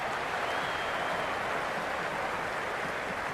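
Large cricket stadium crowd at an IPL match between Chennai Super Kings and Mumbai Indians, roaring and applauding in a dense, steady wash of cheering that stays loud throughout.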